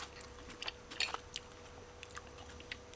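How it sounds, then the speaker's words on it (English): Quiet, irregular crunching and biting as someone chews lightly cooked snow peas from a shrimp stir-fry up close, with several sharper crunches in a row and no talking. "the snow peas is crunchy, very crunchy."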